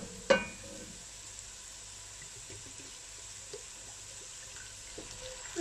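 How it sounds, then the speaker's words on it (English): Soft, steady sizzle of white wine hitting a hot pan of onion and garlic, a faint, continuous hiss with a small clatter at the start and low background hum. "You're going to deglaze the pan with the wine, just like so."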